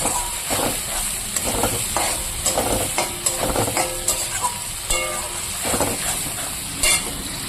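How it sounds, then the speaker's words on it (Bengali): Tomato pieces being stirred into a frying spice masala in a pan, with a steady close sizzle and repeated scraping stirs throughout, no talking. "এবার আমি দিয়ে দেবো এখানে কয়েক টুকরো টমেটো টমেটোটা ভালো করে মশলার সঙ্গে মিশিয়ে নেব"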